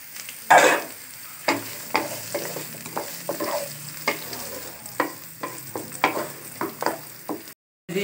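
Two medium onions, diced into cubes, frying in oil, with a steady sizzle under repeated scraping and stirring strokes, close by.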